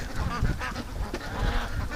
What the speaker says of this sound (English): the ducks are warming up to me. They keep coming over to the boat and looking.